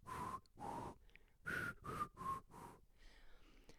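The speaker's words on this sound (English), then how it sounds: "When you're blowing air out of your mouth, it makes a note." Someone blows air out through the mouth in short breathy pulses, several carrying a thin whistled tone, six puffs in an uneven rhythm, close and soft, with no speech.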